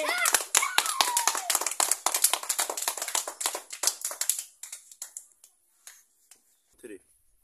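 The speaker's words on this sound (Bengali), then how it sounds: "সবাই হাততালি।" Children clap for a prize winner being handed a fan, a dense burst of many hands for about four seconds that thins to scattered claps and fades out, with a voice briefly heard.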